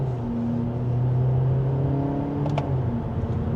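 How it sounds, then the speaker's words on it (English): A Kia K4 GT Line accelerates from second gear, its engine hum rising steadily inside the cabin, with a brief click near the end and no talking. "we'll do one more acceleration from second gear."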